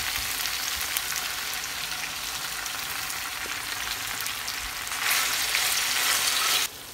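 Plums (boroi) hit hot oil with garlic and sugar for a pickle, giving a steady close-up sizzle that swells louder for a couple of seconds near the end, then drops back abruptly.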